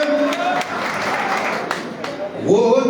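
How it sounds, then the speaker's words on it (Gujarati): A crowd at an outdoor political speech in Keshod claps in a steady wash of applause under a loud amplified voice, the clapping continuing throughout at moderate distance. "તાળી પાડવાથી તમને ક્યાંય ફાયદો નથી"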